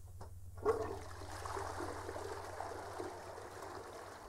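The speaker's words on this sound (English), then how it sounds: "Flush, the poo-poo is stuck." A toilet flushes in a horror video game, a sharp click of the handle followed by a steady rushing, gurgling stream of water at moderate volume with no talking.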